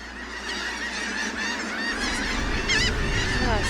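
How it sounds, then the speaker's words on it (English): A massive flock of shorebirds, red knots among them, calls on a sandy Delaware Bay beach at Norbury's Landing, a dense continuous chorus of overlapping honking cries that swells louder near the end. "a massive flock of shorebirds"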